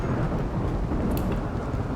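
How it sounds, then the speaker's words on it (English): A rainy thunderstorm in the game RimWorld brings dense, steady rainfall with a deep rolling thunder rumble underneath, loud and continuous throughout, with no voices. "So rainy thunderstorms are best thunderstorms."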